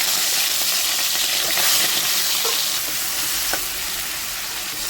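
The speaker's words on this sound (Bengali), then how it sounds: "চিংড়ি মাছগুলো আমি ভেজে নিচ্ছি" Prawns fry in hot mustard oil in a wok, a loud dense hiss and crackle that runs unbroken and close, with faint stirring scrapes.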